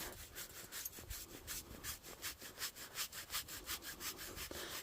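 A brush rasps back and forth across a horse's chest in steady, even strokes, close and fairly loud, around a dozen rhythmic scrubs with no talking over them.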